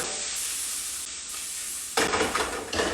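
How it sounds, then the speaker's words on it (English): Mango, cilantro, pineapple and onion salsa drops into a hot pan with a sudden loud sizzle that breaks over an already steady frying hiss, then keeps crackling and spitting up close. "Gonna dump it right in the same pan."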